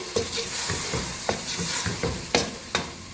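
A spoon stirs pumpkin curry (kaddu masala) in a pan, making a soft continuous sizzle broken by several sharp scraping strokes, close and clear with no voices.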